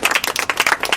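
A small group claps during a cricket mentoring discussion, quick uneven hand claps bunched close together for about a second, fairly near and with no speech over them.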